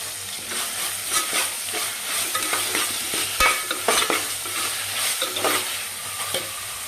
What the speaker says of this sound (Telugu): అల్లం వెల్లి పేస్ట్ పచ్చివాసన పోయేలా వేయించండి ఇందులో కొంచెం కరివేపాకు వేసుకున్నాము